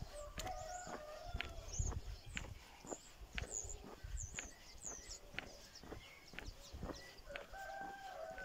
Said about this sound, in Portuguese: Há muitas galinhas e muitos galos.